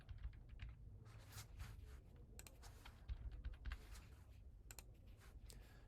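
Someone types form details on a computer keyboard in a quick, uneven run of soft key clicks, faint and close, with no talking.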